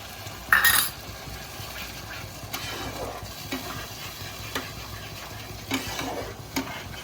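Gravy for gondhoraj paneer frying in a pan while being stirred, with a sharp scrape near the start and then soft intermittent utensil scrapes and clinks over a low, steady background.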